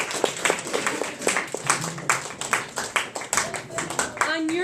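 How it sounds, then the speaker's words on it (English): A classroom audience claps after a student debate on cyberbullying. The clapping is dense and close, with a few voices calling out over it, and it thins toward the end. "Okay, round of applause for both sides."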